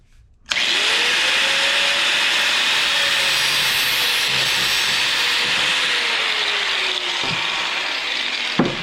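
A blue fuel line being cut to length at a marked spot during an LS engine swap in a car, a steady close loud mechanical whir or grind running continuously for most of the stretch after a sudden start, with no talk.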